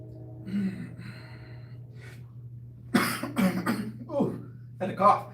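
A single abrupt cough bursts out, followed by a few shorter breathy coughs and exhalations, close by and fairly loud, with quiet murmuring beforehand.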